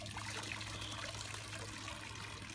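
Pool water trickles and pours into a measuring container, a continuous faint liquid stream with no talk over it.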